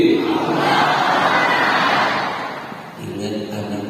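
A crowd of worshippers in a mosque chanting the takbir together, a broad, loud massed shout swelling and sustained for a few seconds before tapering off.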